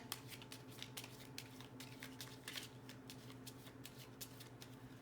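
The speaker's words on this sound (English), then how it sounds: "One more shuffle and we'll see what we get." A Secret Garden oracle card deck is shuffled very faintly and close by, giving a soft, steady rhythm of riffling card clicks over a low background hum.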